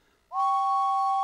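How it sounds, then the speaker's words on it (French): A loud, steady whistle starts after a brief quiet moment and holds one high, piercing pitch without a break. "il se met à siffler de toutes ses forces"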